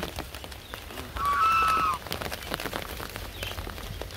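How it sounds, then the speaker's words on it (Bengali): Steady rain patters outdoors in a village, a continuous hiss of drops on surfaces with a brief high whistle-like call partway through. "কেমন বৃষ্টির শব্দ এখানে দেখছো না?"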